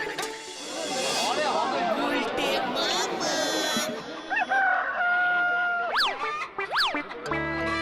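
Chickens at a market clucking, then a rooster crowing in loud rising calls, close by, over a busy background of voices and bustle.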